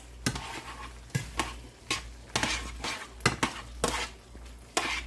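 Sauce for beef and broccoli is stirred in a bowl, a series of irregular close scraping clinks of a utensil against the dish, about a dozen strokes, with no talking.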